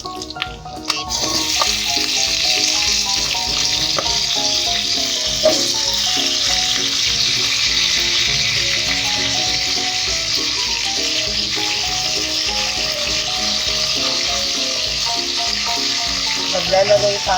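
Potatoes frying alongside pork and tomato paste in a pan for pork caldereta, a loud, dense, continuous sizzle close up with a steady crackling texture throughout.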